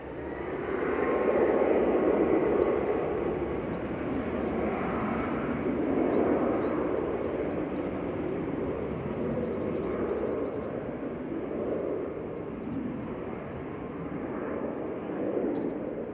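An Emirates airliner roars at Manchester Airport, a broad engine rumble that swells and slowly fades over about sixteen seconds, heard from a plane-spotting spot with no talk.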